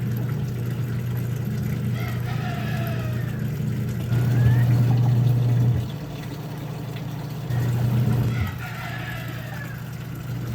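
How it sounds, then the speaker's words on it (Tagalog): A rooster crows twice in the mid-distance amid scattered bird calls, with a steady engine hum droning underneath. "dito talaga ay araw-araw na lang maraming ibon"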